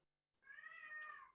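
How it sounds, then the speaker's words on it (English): A cat gives a single drawn-out meow indoors, close but soft, alone after a brief silence. "my cat Malice is chiming in"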